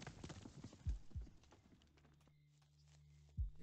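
Horse hooves clip-clop in the video game Above Snake, a few heavy footfalls spaced unevenly over faint background, with no talk.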